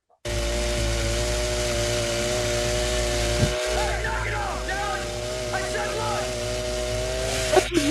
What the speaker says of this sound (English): A little chainsaw fight.